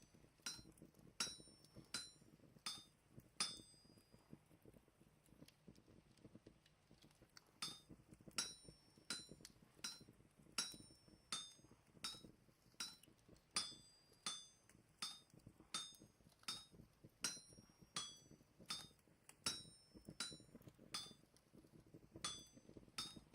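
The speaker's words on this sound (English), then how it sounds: "It's a good time smithing." A hammer strikes metal on an anvil in the video game Vintage Story, sharp ringing clinks repeating in steady runs with a brief pause early on, clear and fairly close over a low background hum.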